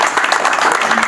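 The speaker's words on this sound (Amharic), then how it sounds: "ሞቅ ያለ ጭብጨባ" Warm, lively applause from guests at a 25th wedding anniversary celebration in a hotel, a brief, close, continuous patter of many hands clapping.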